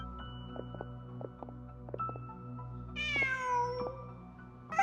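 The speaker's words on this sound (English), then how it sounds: "Huh. Just a cat." A cat in a video game lets out a clear rising-and-falling meow over a quiet, softly pulsing game soundtrack of sustained tones and light plucked notes.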